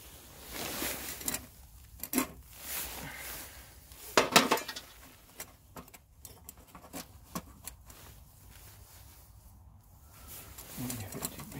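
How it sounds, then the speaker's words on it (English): Metal parts of a gasifying camp stove clink and rattle while it is set up outdoors for a campfire breakfast: scattered close clanks and taps come in bursts, with a faint voice in between. "Break out the gasifying stove."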